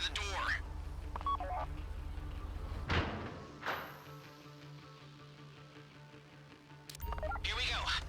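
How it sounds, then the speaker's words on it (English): In GTA V, a phone dials to trigger a bank vault door during a heist: a few quick electronic dial tones and beeps, then heavy thuds as the door moves, with speech around it. "Take out your phone and trigger the door."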